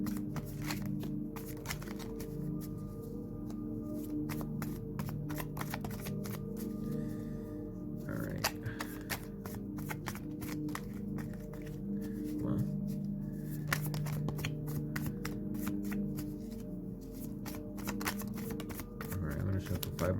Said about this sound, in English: Shuffle 5 more times after this, Spirit.